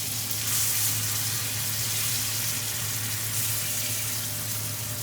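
Salmon frying in a hot pan, a dense, steady sizzle that carries at an even level the whole way, close and fairly loud, with no talking over it.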